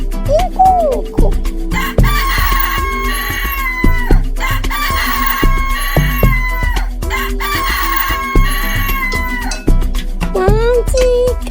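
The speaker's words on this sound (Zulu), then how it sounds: "Nantsi inkukhu, inkukhu, inkukhu." A farm chicken clucks repeatedly and a rooster crows several times in regular bursts, loud and close, with a steady rhythmic background beneath.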